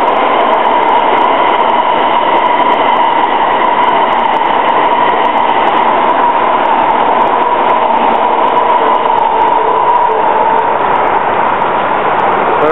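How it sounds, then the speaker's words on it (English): A train passes on the railway at fairly close range, a loud continuous rumble and rolling wheel noise that holds steady throughout with no talking. "Here comes another train."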